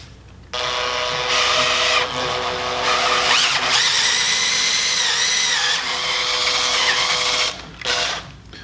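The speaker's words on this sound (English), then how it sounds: "Just using this shaft to kind of hone out this bushing just a little bit to get these collars in." Metal shaft turned inside a bushing to hone it out while assembling a DIY welding positioner kit, a steady whirring mechanical grind with a squealing pitch sweep midway, running continuously for about seven seconds before stopping.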